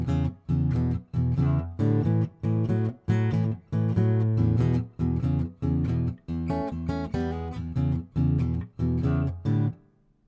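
Blues guitar riff, strummed with the thumb using open strings, a loud, steady pattern of choppy chord hits with short gaps between phrases, close and unaccompanied.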